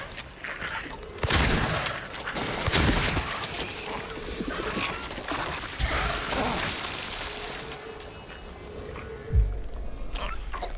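Several sharp, booming shotgun blasts from Silent Hill 2 gameplay, spaced irregularly amid dense game noise and ambience, with a heavier low thump near the end.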